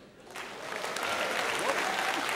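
Steady audience applause at a KVN comedy team greeting contest, a dense wash of clapping that swells in after a quiet start and holds evenly throughout.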